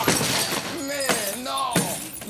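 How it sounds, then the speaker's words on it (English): Glass being smashed, with several sharp shattering crashes spread across a couple of seconds, loud and close, while people talk and shout over it. "She was smashing the glass"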